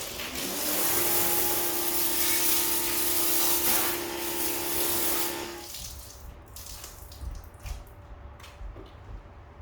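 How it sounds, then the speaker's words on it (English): A foam gun sprays detergent onto a car exterior during washing, giving a loud steady hiss with a tonal whine for several seconds before cutting to quieter dripping and splashing water. "And also I have this foam gun."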